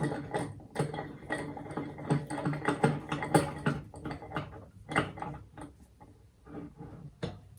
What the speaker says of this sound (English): Then we just take trusty clamps and put them back on there and on there.